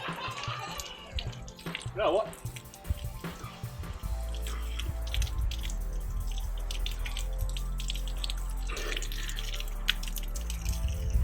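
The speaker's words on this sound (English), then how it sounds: "Let's go for a walk to the old tap." Hot water runs steadily from an old outdoor tap, a continuous splashing gush that starts partway through and carries on alone, with someone speaking and gasping over the start.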